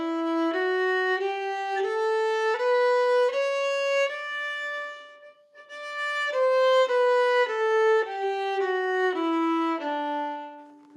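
A violin plays a flowing phrase in maqam ajam, a run of clear sustained notes stepping up and down with a short pause midway, close and alone without any talking.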